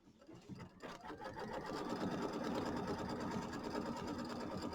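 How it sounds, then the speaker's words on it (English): Embroidery machine stitching a quilt block's tack-down line, a steady rapid mechanical whirring and clatter that builds in the first second and then runs loud and continuous. "then we're going to sew the tack down line"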